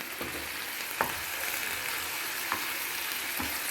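Salted Ceylon spinach leaves wilt in a pan with a steady sizzle, and a few scattered scraping knocks come from stirring now and then, close and fairly quiet.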